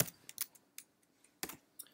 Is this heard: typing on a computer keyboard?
yes